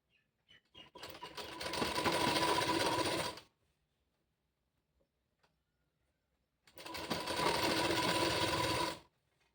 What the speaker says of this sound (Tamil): ஓரத்தில் வந்து ஸ்டிச்சிங் போட்டுக்கலாம்